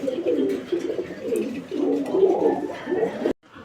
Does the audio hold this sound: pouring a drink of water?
no